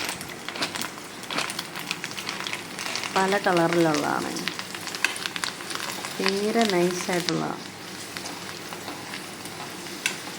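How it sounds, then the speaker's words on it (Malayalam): Kondattam crisps fry in hot oil in a pan, giving a steady, close crackling sizzle throughout while a person talks over it. "ഇനി അത് കുറച്ച് അതുകൂടെ വറുത്തെടുക്കാം."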